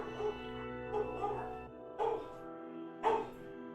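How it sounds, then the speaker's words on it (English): Dogs in NieR Replicant let out several short barks and yips in bursts roughly a second apart, over a steady droning game soundtrack. "Gotta love the dogs."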